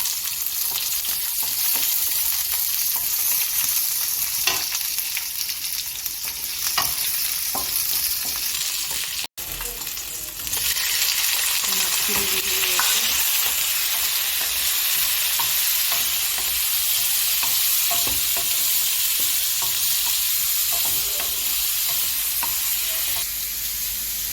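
Whole cumin seeds and onion sizzle steadily in a little hot oil, a loud, continuous frying hiss with occasional stirring scrapes and a brief break partway through.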